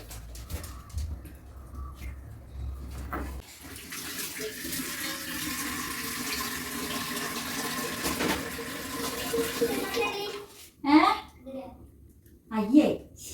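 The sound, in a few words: water running while washing something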